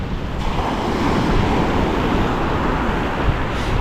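Heavy ocean surf breaks at a windy Miami beach during a strong swell, a loud continuous wash of waves with wind rumbling against the microphone and no voices.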